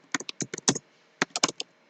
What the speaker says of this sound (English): I'm typing really fast